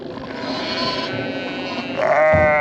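A sheep bleats loudly and close during lambing, a long wavering cry followed by a second, higher and stronger bleat, with no talking.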